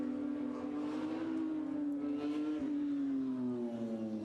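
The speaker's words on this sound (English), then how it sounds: "We can hear a car circulating." A steady engine drone hums from a distance, its pitch slowly sliding down as a Porsche Carrera Cup race car circulates on the Zandvoort track, with no voices.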